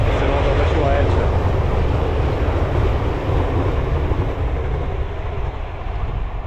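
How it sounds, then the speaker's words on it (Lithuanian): A train passing by along a railway in Wales, a loud, continuous low rumble and roar close by that slowly eases, with a voice faintly mixed in. "Vis dėlto važiuoja traukiniai."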